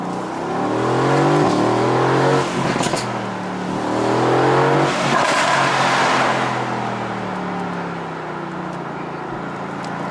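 A 2017 Mercedes-AMG GT C Roadster engine revs up through rising gear sweeps, loud and close from the cabin, swelling and easing in repeated acceleration pulls with no talking.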